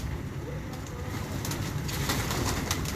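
Pigeons coo softly and continuously against a steady background hum, several low throaty calls overlapping.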